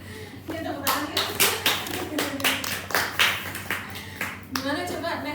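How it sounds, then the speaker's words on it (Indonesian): A group claps hands in a counseling training session, several ragged bursts of applause in close succession over a few seconds, with voices talking around the clapping. "Ya tepuk tangan ya"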